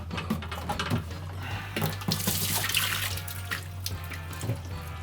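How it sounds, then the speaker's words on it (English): Water runs steadily from a tap into a 7-gallon storage container, a continuous close rushing and splashing with a low hum underneath, no talking. "Alright, now we're gonna fill it up for real. This is a 7-gallon container."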